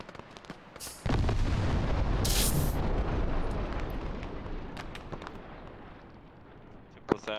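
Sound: explosion in video game ARMA 3

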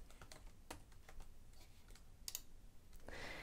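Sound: typing on a computer keyboard

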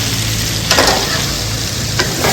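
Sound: sautéing onions, curry leaves and green chillies in a pan

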